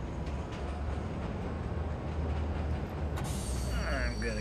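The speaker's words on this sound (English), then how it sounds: "Stealing the train." Train being stolen in the video game Wolfenstein: The New Order: a steady low rumble of rolling rail cars with a hissing burst near the end, continuous and fairly loud throughout.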